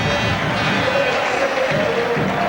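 Large football stadium crowd at a Paris Saint-Germain versus Leeds match, a steady loud murmur and roar of many voices filling the space with no distinct cheers.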